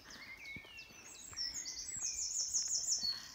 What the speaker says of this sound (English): I'm sure you can hear all the birds up singing their hearts out.